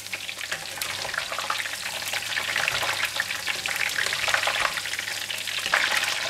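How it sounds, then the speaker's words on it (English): Fish frying in very hot oil gives a loud, dense, steady sizzle with crackling pops throughout, close and alone without talk. "When the oil is really hot, we just put it in for about 10 to 20 seconds."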